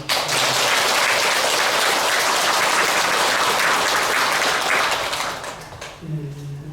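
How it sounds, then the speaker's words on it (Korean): Loud, dense applause from a congregation at a Buddhist dharma service, sustained clapping filling most of the stretch before tapering off, with a voice beginning to speak as it fades near the end. "다시 한번 박수를 보내드립니다"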